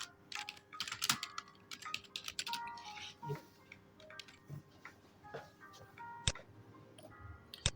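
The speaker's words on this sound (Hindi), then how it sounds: "अंडर रूट हम यहाँ पर टाइप कर सकते हैं" Typing on a computer keyboard, with irregular clusters of light key clicks up close at a quiet level, plus a few sharper taps.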